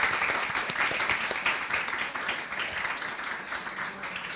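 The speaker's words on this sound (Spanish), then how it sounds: "Podéis aplaudir, deberíais aplaudirle, de hecho." An audience at a book presentation in the Akira Comics shop applauds for Jesús Marugán, a dense, fairly loud burst of many hands clapping that gradually thins out over a few seconds.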